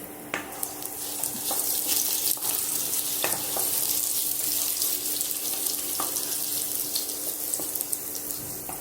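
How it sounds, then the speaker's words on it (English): Onions frying in a pot for jollof rice with vegetables, a steady close sizzle with light scraping and clinks as they are stirred, no talk over it. "While the onion fries, we're gonna stir it."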